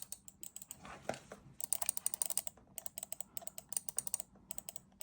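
Razer DeathAdder Essential computer mouse clicking at a desk, a rapid run of crisp, close clicks, soft and fairly quiet, no talk.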